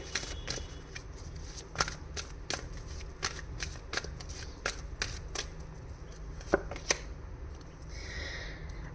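Tarot cards are shuffled and drawn, giving a close run of crisp, irregular card snaps and riffling flicks with soft handling noise between them.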